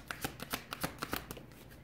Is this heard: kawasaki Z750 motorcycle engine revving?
no